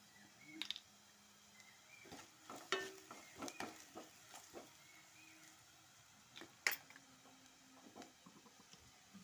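Black pepper powder sautéing in hot oil for a curry, with a faint sizzle broken by scattered spatula clicks and scrapes against the pan, quiet and close.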